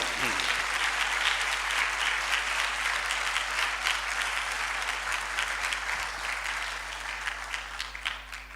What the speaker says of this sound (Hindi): जोरदार ताली बजाओ यीशु के नाम।